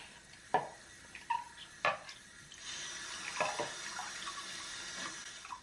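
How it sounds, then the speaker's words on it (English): Brush-cleaning tools are rinsed under running tap water at a sink, a steady stream splashing and trickling with a few sharp knocks and clatters of handling early on. "after all my brushes are done, I just rinse this out"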